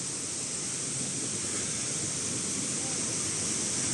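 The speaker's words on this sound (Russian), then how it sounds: "сейчас к самому водопаду подходим, который за углом" Steady, loud broadband roar of rushing water from the Malye Chegem waterfalls, constant throughout, with no pauses or breaks.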